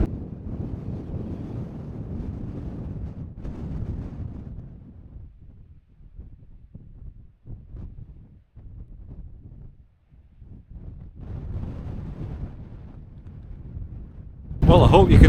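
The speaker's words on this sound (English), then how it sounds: "It's very windy up here" Strong wind buffets a microphone on an exposed Peak District hilltop near Kinder Reservoir, rumbling low and loud in gusts that ease and return, ending in a sharp blast of noise.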